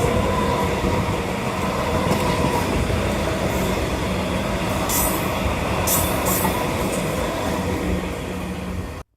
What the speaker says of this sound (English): a train is running express through the station at a fast speed